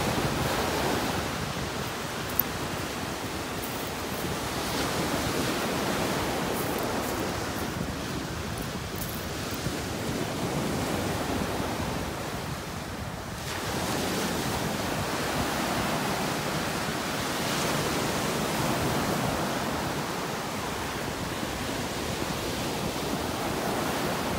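Ocean surf rolls onto a beach in North Naples, Florida, a broad steady wash of breaking waves with gentle swells and some wind, with no talk.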